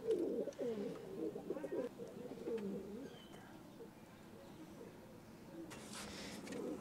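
Pigeons coo in a loft of racing pigeons, low rolling calls repeating close by over a faint background hum, with a brief rustle of wings near the end.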